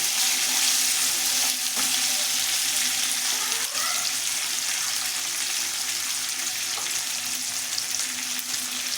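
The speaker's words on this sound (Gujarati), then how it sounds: "હવે આપણે જે ભીંડા કટિંગ કરીને રાખ્યા છે એ તેલની અંદર એડ કરી લઈશું" Okra fries loudly in hot oil with a steady, dense sizzle, stirred now and then with soft scraping, close and continuous without any talking.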